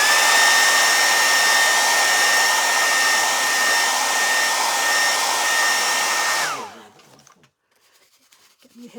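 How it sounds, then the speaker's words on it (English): A blow dryer runs at close range over freshly stenciled paint on an upcycled piece, a loud steady whoosh held for several seconds before it is switched off and spins down into near silence. "Let's hit this with the blow dryer super quick."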